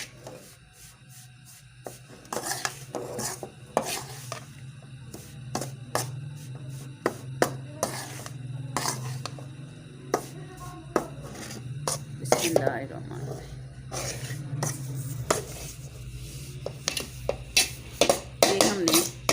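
Flaxseed being roasted and stirred in a pan at home, with repeated sharp scraping and tapping of a utensil against the pan over a low steady hum, irregular and close, while someone talks intermittently.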